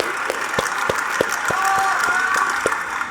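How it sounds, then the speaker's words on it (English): An audience applauds after a marimba competition performance, a sparse and uneven scatter of claps rather than a full ovation, heard beneath a voice talking over it. "soaking that applause"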